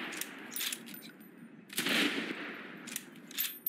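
Gunshots in a rifleman shooter game crack in several short bursts spaced apart, with the loudest volley in the middle, fairly close over quiet background.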